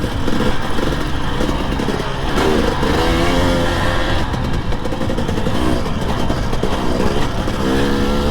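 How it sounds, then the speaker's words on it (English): A KTM 300 XC-W TPI two-stroke dirt bike running on a trail ride. Loud, continuous engine drone that rises and falls as the throttle changes, with wind noise over it and no speech. "Some people say that KTM 300 XCW TPI is the best bike money can buy"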